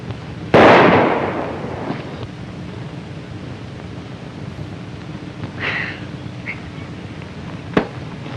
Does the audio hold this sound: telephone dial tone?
no